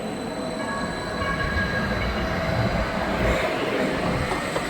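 A freight train hauled by SD160 locomotives, numbers 1031 and 1035, rolls steadily past close by with a continuous rumble and rail noise, no voices.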